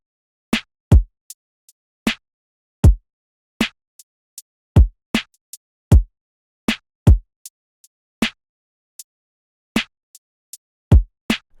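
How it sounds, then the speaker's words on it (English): Kick and hi-hat drum pattern for an R&B-style beat, velocities varied to give a bounce: sharp, punchy hits in an uneven syncopated rhythm with louder and softer strikes, dry and close, no other sounds. "just a normal kick pattern with a hi-hat that was like this"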